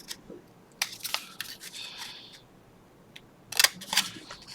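Scissors snipping through paper for stacked flag paper-clip embellishments, a few short crisp cuts in two close bursts with quiet pauses between, no talking.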